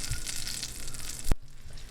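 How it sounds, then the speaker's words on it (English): Chile rellenos deep frying in hot oil in a big skillet, giving a steady close sizzle with a short sharp clatter near the end before it quiets down. "deep fry it till it's nicely golden brown"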